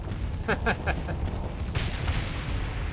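Salamander missiles strike and detonate against a ship in the space combat game Starsector, a quick string of four sharp blasts followed by a broader, rumbling explosion, moderately loud over a steady low hum.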